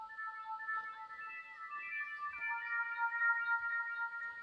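An eerie designed sound, spectrally filtered with iZotope Iris 2 in Pro Tools, holds thin glassy tones that slowly glide and shift in pitch. It is quiet and hollow, with a few faint low thumps and no speech.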